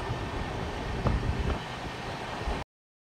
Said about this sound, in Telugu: మన ట్రైన్కి ఫస్ట్ స్టాప్ రాజంపేటకి అయితే ఎంటర్ అవుతుంది